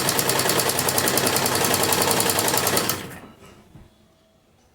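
A sewing machine runs steadily and loudly, stitching a strip onto the edge of a kurti, then stops at about three seconds, leaving near silence.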